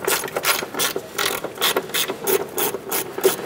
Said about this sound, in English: Let's go ahead and use a 14 millimeter socket. We're going to loosen and remove our two upper control arm bolts here.